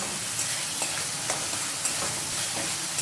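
Mutton being stir-fried with spices in a kadai for a Bengali mutton curry gives a steady close sizzle and hiss, with a few soft scraping stirs cutting through at regular intervals and no talking.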